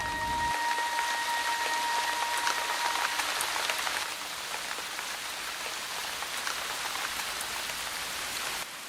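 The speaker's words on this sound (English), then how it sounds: "A sound not heard for over a year. Rain on hot rocks." Steady rain patters and hisses on hot rocks in Brazil, a dense continuous wash of drops that eases slightly partway through.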